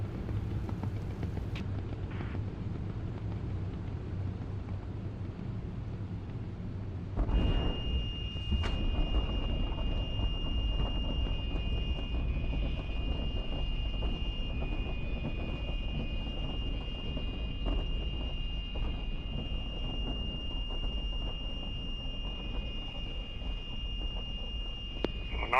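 Simulated aircraft touching down on a runway in the DCS flight simulator game: a steady engine drone lifts abruptly into louder rumble at touchdown, followed by sustained rolling noise with a faint high tone, no talk.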